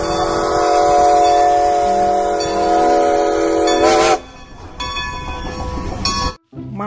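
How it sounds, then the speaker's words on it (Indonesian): A toy steam train hums and rattles steadily, then gives a short, shrill whistle, followed by lighter chugging and another brief whistle near the end. "Lihat, ada kereta uap,"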